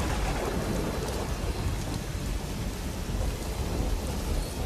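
Heavy, steady rain pours down in a dense roar while thunder rumbles low and continuously underneath, with no speech.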